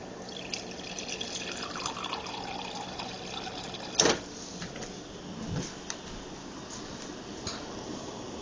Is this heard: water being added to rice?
yes